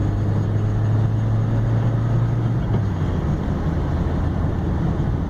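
A 1981 VW Rabbit convertible drives down a road on a freezing day, a steady low engine hum with road and wind noise heard from inside, and the engine tone drops slightly partway through, with no talking.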